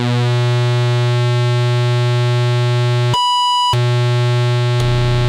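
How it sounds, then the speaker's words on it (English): The pulse wave oscillator of a Solar 42F synthesizer, a loud steady buzzing tone heard alone, briefly cut to a pure beep before the harsh pulse drone returns. "We listen to the pulse."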